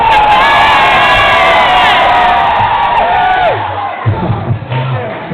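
A loud, rowdy crowd of drunk people shouts and cheers inside a pub, a dense wall of voices close by that dips briefly near the end.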